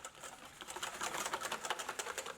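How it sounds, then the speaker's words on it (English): Eggs, two yolks and two whole eggs, whisked in a bowl, a quick, steady run of light clicking taps close up, with no talk over it. "And now we're gonna whisk the eggs."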